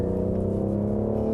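A sports car with rear-wheel steering accelerating under power through a tight turn, a steady, close engine drone with layered low harmonics holding at an even pitch for a brief moment.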